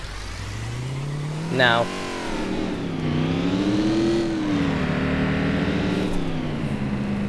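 Holden HSV Maloo engine in City Car Driving revving up a slope, rising and falling drone with a sharp squeal near the start, steady and loud beneath someone talking.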